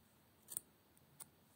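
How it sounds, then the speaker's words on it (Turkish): Two soft snips from scissors cutting yarn while assembling a small velvet amigurumi duck, very quiet and close, spaced about a second apart in an otherwise silent room. "Burayı kesiyorum."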